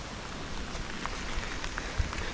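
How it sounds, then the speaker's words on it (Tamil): Rain falls steadily during a monsoon trek toward Netravathi peak in the Chikmagalur hills, a soft continuous patter with a few distinct drops. "மழை ஸ்டார்ட் ஆகிடுச்சு"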